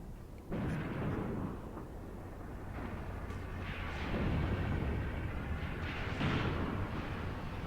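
Distant gunfire from a German gun position in Graviteam Tactics, Kharkov 1942, several muffled booming shots spaced a few seconds apart over a low continuous battlefield rumble.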